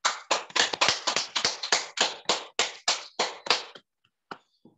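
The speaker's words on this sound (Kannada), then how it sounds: "ಚಪ್ಪಾಳೆ." A single person claps hands after a guided meditation, about fourteen crisp, evenly spaced claps at a brisk steady rhythm, close and fairly loud, stopping abruptly with a couple of faint taps after.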